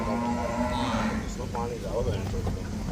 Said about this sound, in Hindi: ये 5वीं भैंस है, 5 और रह गई है लोड करने के लिए।